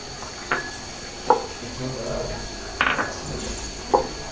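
Taki fish being mixed by hand with mustard oil and mustard paste in a bowl, giving four short, soft clinks and squelches spaced irregularly, close and fairly quiet.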